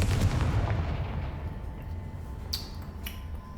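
Confringo spell blast from the Hogwarts Legacy video game, a booming burst that opens loud and decays into a rumbling tail, with a couple of sharp crackles following near the end.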